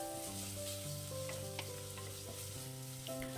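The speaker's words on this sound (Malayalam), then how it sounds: "ഇഞ്ചി വെളുത്തുള്ളി പേസ്റ്റ് ഒന്ന് പച്ചമണം മാറുന്നവരെ ഇളക്കിയെടുക്കുക." Ginger garlic paste and green chillies sautéing in oil for a Kerala tomato and drumstick curry, sizzling steadily while being stirred in the pan, with soft scrapes over the continuous frying hiss.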